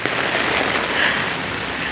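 Rain in Yuen Long, Hong Kong patters steadily and densely on an umbrella held close overhead, a continuous loud hiss with no voices.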